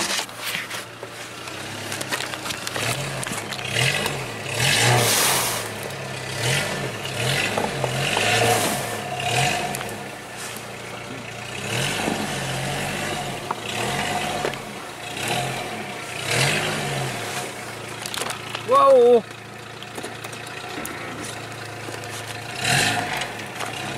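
A Geo car in two-wheel drive revs its engine repeatedly while driving, the pitch rising and falling in waves over a steady mid-level rumble. A brief scraping squeal stands out near the end.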